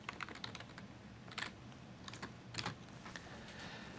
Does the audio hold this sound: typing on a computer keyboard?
yes